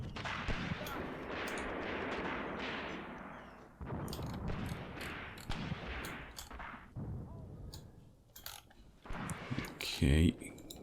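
Enemy gunfire in the WWII tank battle game Tank Warfare: Tunisia 1943 at Longstop Hill, a dense run of sharp shots and distant booms continuing throughout, mixed with voices speaking over the combat.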